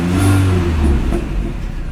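A car engine with an intercooler, running on old gas with a cylinder 4 misfire, idles loud and close with an uneven, choppy low rumble.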